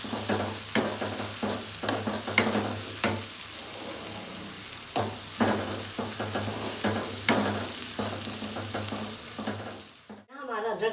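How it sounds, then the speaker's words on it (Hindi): Ginger, garlic and onion sautéing in a pan for minced meat with bitter gourd, a continuous sizzle broken by rhythmic stirring scrapes, close and fairly loud with no talk. "ये हमारा जो है अदरक लहसुन प्याज के साथ सौते हो जाए"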